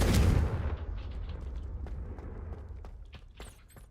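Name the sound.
Confringo spell explosion, from video game Hogwarts Legacy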